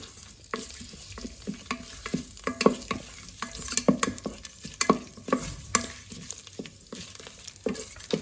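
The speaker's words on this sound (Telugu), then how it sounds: "ఒకసారి కలుపుకుందాము" A ladle stirs whole spices frying in an electric pressure cooker, giving repeated sharp scrapes and clinks over a soft, steady sizzle.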